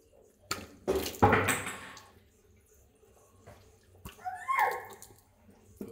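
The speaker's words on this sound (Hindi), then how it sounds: "वॉश बेसिन के पास जाओ, पानी चलाओ, टैप में से पानी लो" Water runs from a washbasin tap in two short gushing bursts separated by near silence, close and fairly quiet.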